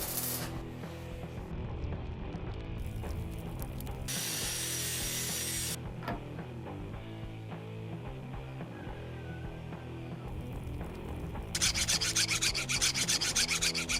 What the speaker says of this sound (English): It feels like I'm trying to file a lathe cutter